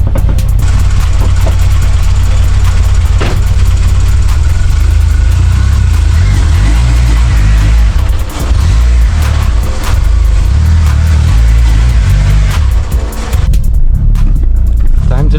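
A cold-started Acura RSX with no idle air control valve idles low, its loud, deep, steady engine drone filling the whole stretch and fluctuating only slightly near the end.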